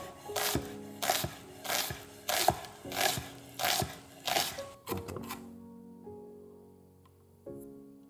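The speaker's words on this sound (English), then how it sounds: "Next, finely chop half an onion." A knife finely chops half an onion on a cutting board, six or seven crisp, evenly spaced strokes close up, then a pause with a ringing tail and one last tap.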